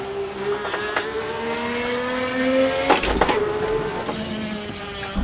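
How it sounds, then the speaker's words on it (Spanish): An Alfa Romeo 155 V6 TI touring car at Laguna Seca in a racing video game, its V6 engine droning and climbing steadily in pitch, then dropping sharply on a gear change before rising again, loud and continuous. "suena muy lindo el coche"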